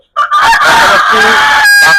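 A light-colored Brahma rooster lets out a single loud, close, honking call lasting nearly two seconds, strident and sustained with a brief break midway.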